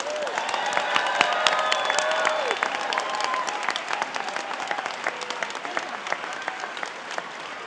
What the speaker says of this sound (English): Let's give all the graduates one big round of applause.